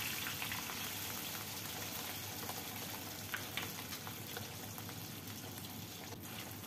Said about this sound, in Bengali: ওই একই তেলে এবার মাছগুলো একে একে দিয়ে আমি ভালো করে ভেজে নেব।